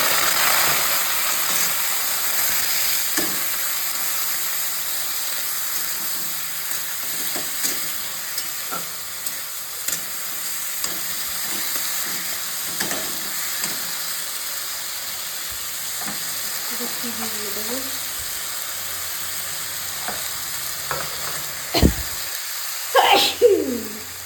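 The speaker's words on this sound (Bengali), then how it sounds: "রসুনটা ভাজা ভাজা হয়ে আসছে" Chopped garlic frying in oil, a faint steady sizzle with scattered light clicks and scrapes of stirring, close by; a brief louder clatter comes near the end.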